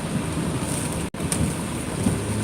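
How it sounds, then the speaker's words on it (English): Steady rain hisses over a moving vehicle while driving, a constant close wash of noise broken by one brief dropout. "And it's still raining here in the Berg."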